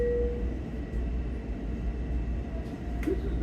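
Riding aboard a Long Island Rail Road coach near Sunnyside Yards in Queens, a steady low rumble and rattle of wheels on track carries on continuously with faint squeals, without talk.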